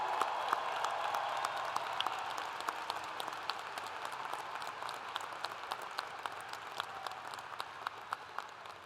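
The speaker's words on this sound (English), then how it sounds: "Please join me in showing our appreciation with a round of applause for their efforts" A commencement ceremony audience gives a sustained round of applause for workers and volunteers, dense even clapping from a large crowd, steady throughout with no voices.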